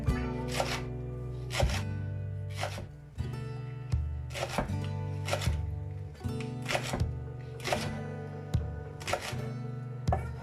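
A knife chops leeks on a cutting board in a steady run of sharp, close knocks, roughly one or two per second, with no talking.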